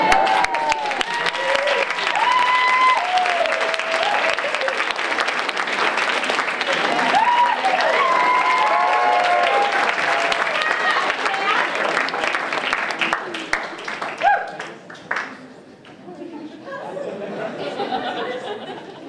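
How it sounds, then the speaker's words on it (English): Applause from an audience after the finale of a magic trick, a full round of clapping mixed with crowd chatter and some laughter, loud for most of its length before fading to scattered murmurs at the end. "fling open the fabric and receive your well-deserved applause."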